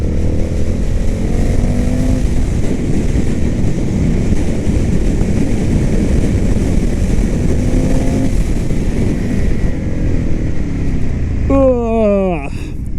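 An Indian FTR S motorcycle engine drones steadily and loudly throughout, its pitch rising and falling with the throttle, with a brief higher revving whine near the end.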